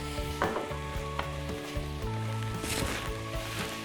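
Floured beef searing in hot oil in a very hot pan, cooked for stout and bacon pot pies. A steady sizzle runs throughout, with a brief louder hiss near the end and a tonal hum beneath.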